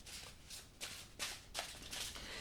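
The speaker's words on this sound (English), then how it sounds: "I want to quickly pull another card for you" Tarot cards are shuffled by hand and a card is drawn from the deck, a series of soft, quick riffling bursts, close and quiet, with no talking.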